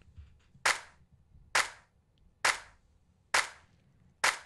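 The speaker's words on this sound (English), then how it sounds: "So let's hear this clap that comes through" Basic standard clap sample from the multitrack of a song, five crisp dry claps repeating at an even tempo of roughly one per second over a faint low background.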